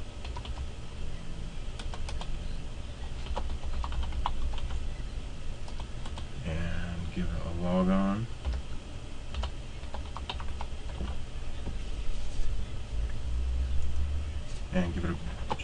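Keys clatter on a computer keyboard as a name is typed into a user account template, in scattered clicks and short bursts under steady background hiss, with a brief whine in the middle.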